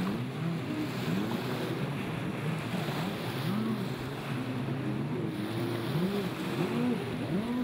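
A two-stroke Superjet stand-up watercraft races in a lights-class event at Parker, its engine buzzing steadily with rising and falling pitch over water spray and wind noise, fairly distant and continuous.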